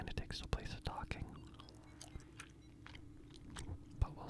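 Close, soft gum chewing with moist smacks and clicks in an irregular rhythm, heard up close with faint whispering in the background.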